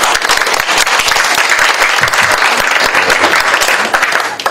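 A lecture hall audience breaks into loud, dense applause welcoming a speaker to the stage, a steady sustained wash of clapping close and full for several seconds.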